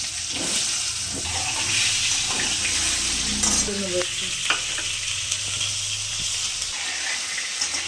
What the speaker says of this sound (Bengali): পটল আলুগুলো ভেজে তুলে নেব